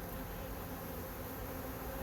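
A dense, steady buzzing of many honey bees at a hive near swarming fills the air, continuous and close, with no other sounds.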